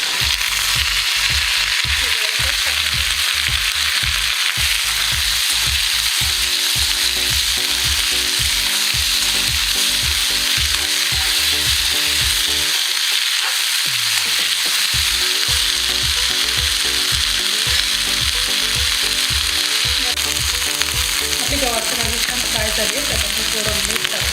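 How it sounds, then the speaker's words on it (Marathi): Mustard seeds, green chili paste and cluster beans frying in hot oil, a loud continuous sizzle with crackling and stirring clatter throughout, briefly pausing midway. "त्यात आपण थोडीशी मोहरी टाकून हिरव्या मिरचीचं वाटण टाकून घेऊ आणि आपली गवार"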